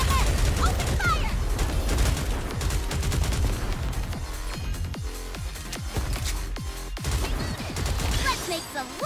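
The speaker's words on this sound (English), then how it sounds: "Aegis cannon, full steam ahead! Open fire!" An Aegis cannon fires in the video game Goddess of Victory: Nikke, a dense barrage of loud gunfire and explosive blasts rolling steadily, with sharp separate booms, under game music and shouted character voices.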